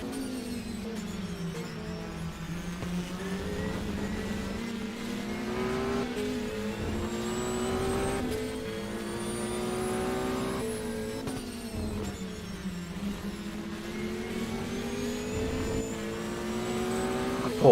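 Porsche race cars scream past at the Daytona 6 Hours endurance race, engines rising and falling through repeated gear changes in a continuous loud racing roar with no talk.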